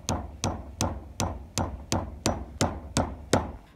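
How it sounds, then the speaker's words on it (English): Eight evenly spaced sharp metallic hammer strikes on a fidget spinner, loud and close, each ringing briefly before the next blow lands. "Just hammering it in."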